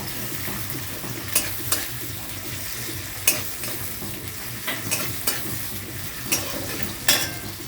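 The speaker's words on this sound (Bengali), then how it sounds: "কড়াইতে আমি তেল দিয়ে দিয়েছি তেল গরম হয়ে গেছে আমি দিয়ে দেবো এর মধ্যে পেঁয়াজ" Chopped onion frying in hot oil in a wok for a yogurt cauliflower roast, a constant close sizzle broken by sharp spatula clinks and scrapes as it is stirred.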